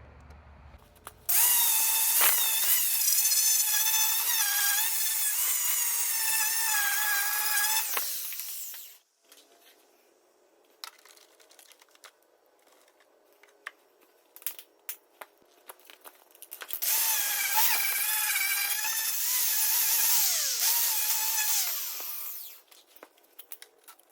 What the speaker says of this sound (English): First thing I'm going to do is start grinding just everything. Just going to grind it all out, see what we have left for metal here.